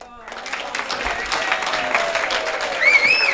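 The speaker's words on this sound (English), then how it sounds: "give him a big round of applause" Guests at a bar mitzvah party break into applause, steady clapping from a room full of people that rises after a brief quiet start and keeps going at moderate volume, with some voices over it.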